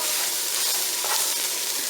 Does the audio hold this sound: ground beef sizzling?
yes